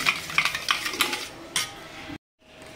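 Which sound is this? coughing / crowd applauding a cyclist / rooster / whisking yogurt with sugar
whisking yogurt with sugar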